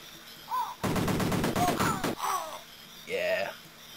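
Rapid burst of retro video-game gunfire from the Amiga title Cannon Fodder, a dense crackling volley lasting over a second, with short chirpy game sound effects before and after it.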